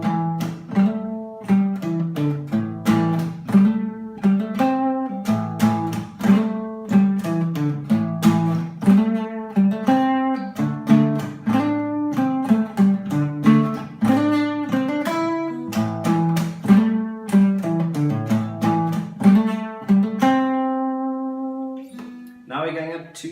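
An acoustic-sounding guitar plays a 12-bar blues shuffle in A with a pentatonic flavour, rhythmic picked notes repeating steadily and clearly alone, ending on a sustained ringing note.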